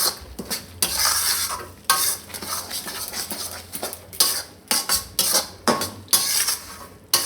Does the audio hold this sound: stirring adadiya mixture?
yes